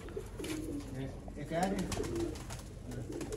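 Sharmila breeder pigeons coo in low, rolling murmurs, several soft calls layered close together over a steady loft background with faint voices nearby.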